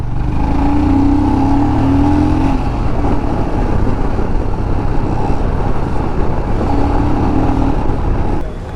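A Maruti Wagon R hatchback drives along a road, its engine and tyre roar loud and steady throughout, with wind and road noise filling the cabin and a faint rising engine tone at moments.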